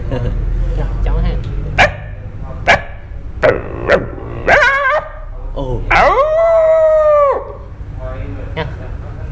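A man imitates a dog, voicing a string of sharp, separate barks and yips, then a long rising howl that fades into a few softer yelps, all close and loud against low background hum.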